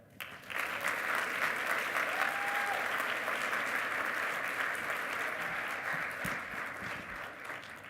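Audience applause for a slate of quad director candidates, a dense, sustained round of clapping that swells in quickly and holds steady, only easing slightly toward the end.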